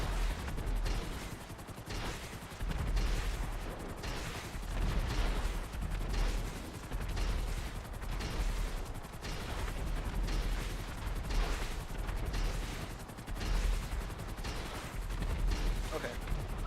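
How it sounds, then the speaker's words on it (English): The Sea Sparrow helicopter in GTA Online fires rockets in a rapid, continuous barrage, repeated loud whooshing blasts and booms layered over a steady rotor drone, with a voice talking over them. "It has quite a substantial amount of rockets, and you can actually spam the rocket now to hit your target."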